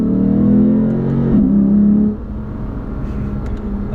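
A 2015 Lexus RC F engine revs hard from inside the cabin, a loud droning roar that holds steady for about two seconds, then drops to a quieter, steady hum.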